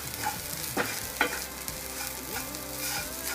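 Barnyard millet (bhagar) roasts in a pan, crackling and sizzling steadily, with spoon scrapes and stirring strokes coming through close up and no voices.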